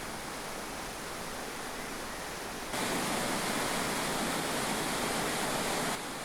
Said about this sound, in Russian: Каждый из 5 ее водопадов по-своему живописен, но самый красивый и знаменитый – последний – Корбу